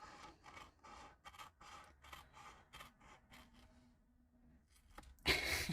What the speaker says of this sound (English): I am horrible at cutting these corners.